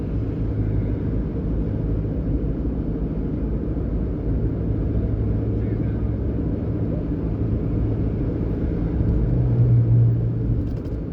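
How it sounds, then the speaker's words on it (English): Peak-hour traffic on Mandela Highway in Kingston, Jamaica, near a busy gas station, rolls past as a loud, continuous low rumble of many vehicles, with a heavier engine swelling briefly toward the end. "This is just peak hour traffic."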